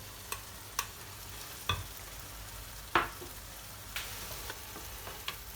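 Pepper paste and tomato paste fry in melted butter, with a soft, steady sizzle broken by several sharp clicks and taps of stirring in the pan, fairly quiet and with no voices.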